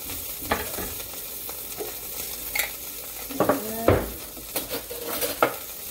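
Diced garlic dropped into a hot frying pan for a spaghetti dinner, sizzling close by with sharp clatters and scrapes of a utensil against the pan and no voices.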